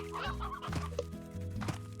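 A roostro, a rooster in Slime Rancher, clucks in a quick run of close, throaty bursts over a steady game background.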